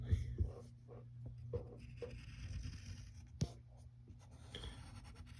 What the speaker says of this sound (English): now we draw his